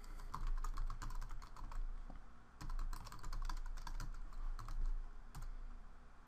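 Rapid keystrokes clatter on a computer keyboard in uneven bursts as LaTeX commands are typed, close and fairly quiet, with a short pause midway.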